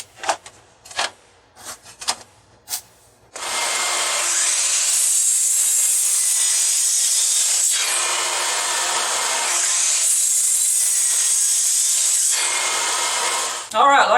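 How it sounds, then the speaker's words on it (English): A table saw ripping 2x10 lumber, with a few knocks of wood being set in place, then a long, loud, steady whining cut that briefly dips midway and ends with the blade spinning down. "we don't have to push the whole 2x10 through the table saw over and over again"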